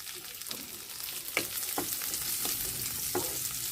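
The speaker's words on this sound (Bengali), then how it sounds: "আর আমরা এই ঘিয়ের মধ্যে কাজু কিশমিশগুলো দিয়ে দেবো, এগুলো ভাজা হবে।" Cashews, raisins and chopped carrot fry in ghee with a close, steady sizzle, broken by a few sharp spoon scrapes and clicks against the pan; no voices.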